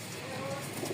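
Pigeons kept in pairs at a bird seller's stall in Rajshahi give a brief, soft cooing over a quiet background.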